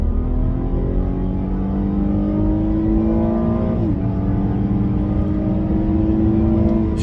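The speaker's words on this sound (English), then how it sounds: "let's do a 40. Hit it." A 2017 Cadillac ATS accelerates hard from a 40 mph roll, its engine droning steadily with rising pitch, a quick gear shift partway through, then climbing again; loud and continuous inside the cabin with no talk.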